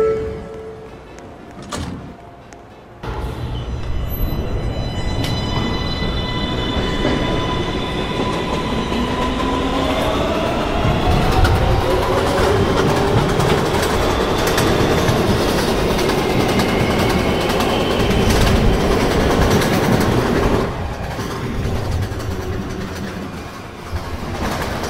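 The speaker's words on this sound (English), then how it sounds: "This is a Manhattan-bound 1 train." A Manhattan-bound NYC subway 1 train in the NYC Subway Automatic game runs steadily for most of the stretch, a continuous loud rumble with wheel clatter and a rising whine, after a brief quiet start.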